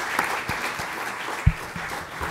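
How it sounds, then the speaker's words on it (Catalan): Applause for a speaker at a talk session, a diffuse scattering of claps at moderate volume with a few sharper individual hits over a couple of seconds. "Jo crec que un aplaudiment per al Albert."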